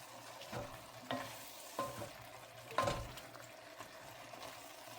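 Spices being stirred into a simmering pot, with soft bubbling under four or five distinct spoon scrapes and knocks at roughly one-second intervals, close and fairly quiet, no talk.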